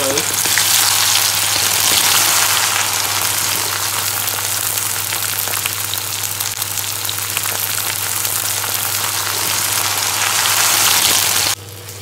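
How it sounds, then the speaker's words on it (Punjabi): Okra dropped into hot oil with browned cumin in a Punjabi home kitchen, a loud dense crackling sizzle like heavy rain that runs steadily for about eleven seconds before cutting off abruptly. "ਲਓ ਜੀ ਤੇਲ ਵਿੱਚ ਭਿੰਡੀਆਂ ਪਾਤੀਆਂ ਨੇ"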